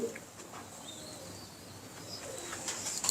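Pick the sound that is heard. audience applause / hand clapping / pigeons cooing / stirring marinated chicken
pigeons cooing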